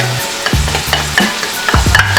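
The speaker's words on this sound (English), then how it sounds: "As you can see, I'm throwing my carrots in." Grated carrots frying in a pot of hot oil, stirred with a few short scraping strokes that punctuate a light, steady sizzle, close and clear with no talking.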